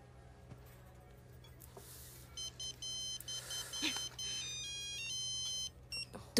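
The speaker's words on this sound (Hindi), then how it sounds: "तुम्हारी माँ का फोन है।" A mobile phone rings with a repeating electronic melody of short bright beeps in bursts, moderately loud over a low steady hum, starting after a quiet opening.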